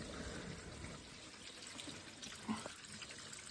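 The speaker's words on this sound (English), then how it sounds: "and it'll drain the boiler" Water drains steadily from a boiler drain valve, a soft continuous rush and trickle at modest level, with a brief louder splash about two-thirds through.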